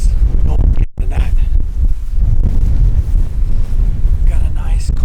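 Strong wind buffets the microphone in a loud, continuous roar with gusty surges during a whitetail deer hunt in Kansas, briefly dropping out for a moment before rushing back in.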